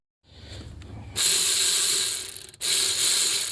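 A hand ratchet fitted with a 10 mm deep socket clicks rapidly while backing out valve cover bolts on a 2009 Subaru Forester, close and loud, with one short pause before the clicking resumes; no talking.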